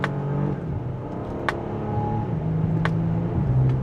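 A Bentley Continental Flying Spur with a PDK gearbox accelerates hard through the gears, its engine note climbing and dropping with quick, snappy shifts, steady and close throughout.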